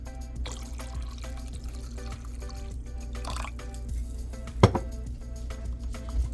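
Vinegar pours into mason jars packed with banana peppers for pickling, a soft, steady liquid trickle with small glassy clinks and one louder knock of glass partway through.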